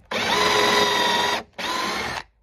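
A power drill whirs loudly in two bursts while drilling barn wood for a bench, the second shorter, separated by a brief pause, with no talking.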